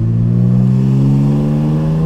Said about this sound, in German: er klingt also wie ein Supersportwagen. Wie gesagt, das ist das Loch im Auspuff